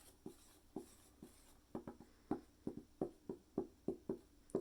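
A marker or pen drawing chocolate chip cookies by hand for a math lesson: a quiet series of short, regular scratchy strokes and taps, close and fairly soft, with no talking.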